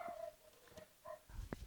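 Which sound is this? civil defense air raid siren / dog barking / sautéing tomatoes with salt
dog barking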